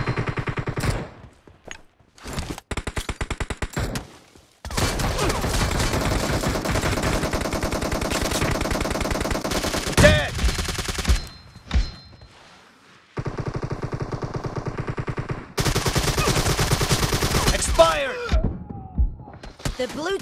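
Gunfire in PUBG Mobile: rapid automatic bursts and single shots in several long volleys separated by brief silences, loud and close, with game voice callouts mixed in.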